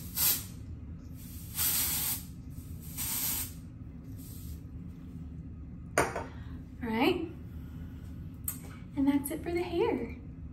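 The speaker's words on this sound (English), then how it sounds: "So then the texturizing spray," Texturizing hair spray spritzed onto bangs in several short hissing bursts with pauses between them, close by, followed by someone talking briefly.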